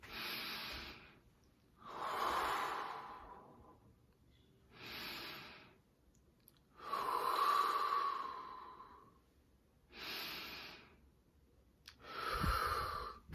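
Slow, deep breaths during a calming breathing exercise for cannabis withdrawal cravings, six long, audible inhale and exhale cycles with pauses between them, close and fairly clear with no talking.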